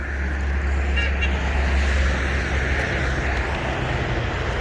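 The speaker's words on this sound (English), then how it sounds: "All right, we got all kinds of people honking." Passing trucks sound their horns beside a busy road, short blaring honks rising over a continuous roar of traffic.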